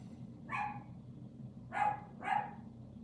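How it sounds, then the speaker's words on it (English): An angry dog barks three times at a distance, one sharp bark followed after a pause by two quicker ones, faint over a low background hum. "Dog's angry."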